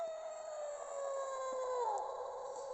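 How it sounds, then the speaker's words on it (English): A werebear toy figure lets out a long electronic howl when its badge is pressed, a sustained wavering tone that slides downward near the end, steady and fairly loud with no talking. "Pressing that badge causes the bear to howl"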